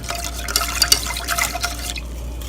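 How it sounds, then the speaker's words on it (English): Custard powder and sugar mixture whisked in a bowl makes a close, wet, irregular swishing with light liquid splashes and clinks, moderately loud and without speech. "we will whisk it so that there is no formation of lumps"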